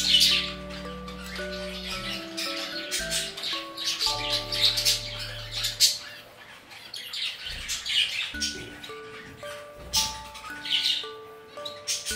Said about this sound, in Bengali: পাখিগুলো সব ঠিকঠাকই আছে